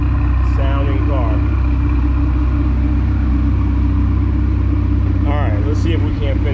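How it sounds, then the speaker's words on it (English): A 2023 Chevrolet Corvette C8, warmed up, running with a steady deep engine rumble that holds close and loud throughout, while a person talks over it. "She's warmed up, she's quieted down a little bit, but yeah, this is a mean sounding car."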